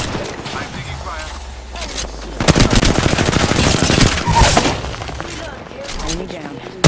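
Gunfire in Apex Legends, a rapid automatic burst rattling in dense close shots, with a quieter stretch before and after and game voice lines heard alongside.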